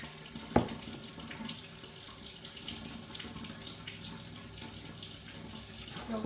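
Cold water gushes steadily from a kitchen tap into a bowl, a continuous close rushing splash that opens with a brief clunk.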